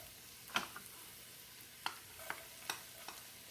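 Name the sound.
onion sautéing in a pan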